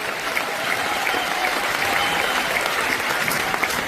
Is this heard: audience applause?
yes